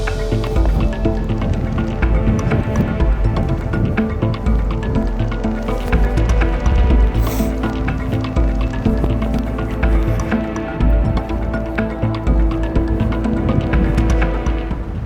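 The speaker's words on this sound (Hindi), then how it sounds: "जो बारिश है, जो बूंदाबांदी थी वो थोड़ी सी और तेज़ हो गई है" A steady rain drizzle falls in mountain trekking country near Jahaz Banda and Kund Banda, blended with the continuous rush of a waterfall and river stream, dense, even and fairly loud throughout.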